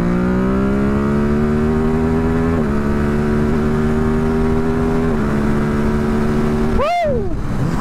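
A Ducati HyperMotard motorcycle engine climbs steadily in pitch under acceleration with a few brief gear-change dips, then drops sharply and flares back up near the end, loud and close.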